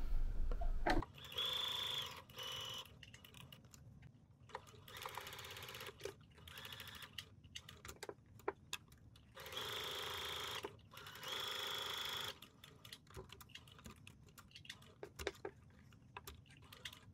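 A sewing machine set to a regular 2.5 stitch length stitches fabric for a blouse top in bursts of steady mechanical whirring, interrupted by short pauses and small clicks of handling.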